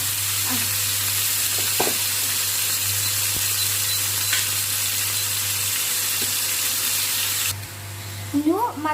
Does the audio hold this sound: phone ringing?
no